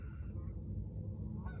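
Canada geese honking as they fly overhead at a winter campsite, a dense flock of calls blending into a steady, continuous clamor with no talking.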